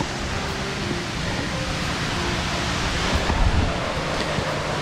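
A waterfall pours down steadily, heard from near its base on a wet, slippery slope: a continuous broadband rushing roar, fairly close and even, with no voices.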